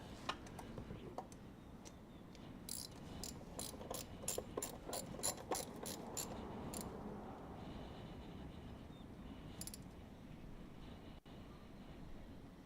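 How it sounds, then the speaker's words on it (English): A hand ratchet clicks in quick rapid runs while loosening lightly torqued bolts on a crew cab Charger project car, faint and close, with short pauses between strokes and a quieter stretch near the end. "when I'm turning this ratchet"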